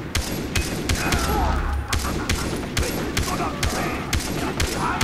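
Gunfire in the Far Cry 3 video game, a rapid string of loud, sharp shots firing in quick bursts across the whole stretch, with a low rumble partway through.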